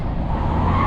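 A BMW car speeds past during a car chase in downtown Los Angeles, a loud, brief engine roar with a hint of tire noise, close by.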